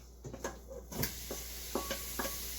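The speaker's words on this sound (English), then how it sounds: "As soon as you drop that in, you want a nice sizzle" Chicken pieces hit warm oil in an Instant Pot for lime chicken burrito bowls, with a soft steady sizzle broken by several sharp clinks and scrapes of a utensil stirring against the pot.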